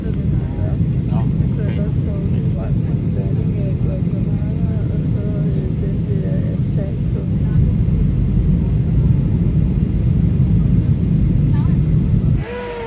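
Airplane cabin noise on the approach into Guatemala City, a loud steady low roar and rumble filling the whole stretch before it drops off at the very end.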